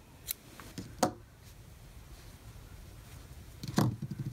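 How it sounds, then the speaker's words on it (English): Scissors snipping crochet yarn near a mitten, a couple of soft, sharp close cuts separated by a quiet pause. "you're just going to cut your yarn"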